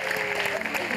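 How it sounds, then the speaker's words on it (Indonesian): On the Family 100 game show, the studio audience bursts into a short spell of clapping under lively voices, about a second of dense applause. "Tapi tepuk tangan juga yuk untuk Kuproy kece yuk."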